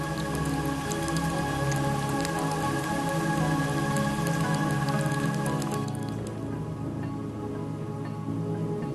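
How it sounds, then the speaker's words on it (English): Steady rain falls on volcanic mud on the Serengeti plains, a dense patter of drops and soft squelching that fills the scene, with low rumbling beneath and no voices. "Once again, the world is transformed as rain churns the volcanic mud."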